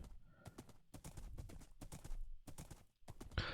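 Horse hooves clip-clop in Minecraft, a video game, as a mount trots through a village area: a steady run of quick hoof taps repeating throughout, fairly close and alone with no talk.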